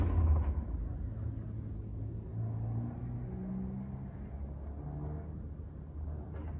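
A Honda Civic engine runs after an intake manifold and leaking hose repair, a close, low, throaty rumble with mild revving swells and no voices.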